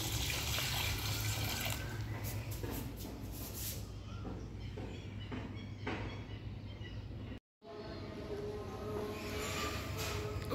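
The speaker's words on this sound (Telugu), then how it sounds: "ఇక్కడ తులసి మొక్కకు నీళ్ళు పోస్తున్నానండి." Water is poured onto a small tulsi plant, heard as a steady close splashing rush with a brief break near the end, alone and with no talk.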